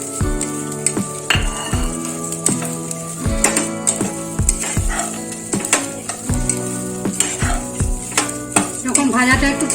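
Cashews being stirred into frying rice in a pan for Gondhoraj lemon pulao, with a steady sizzle under repeated sharp scrapes and knocks of a spatula against the pan, close and fairly loud, plus bits of background music.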